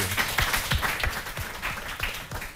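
Brief, fairly loud applause from a studio audience for a quiz contestant on a French game show, a steady patter of clapping with no talking.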